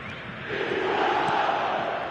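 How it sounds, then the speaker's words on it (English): A stadium crowd chants and roars in the eFootball 2026 football video game, a dense sustained wash of voices that swells slightly and holds loud throughout. "The crowd are calling for this to be put to bed."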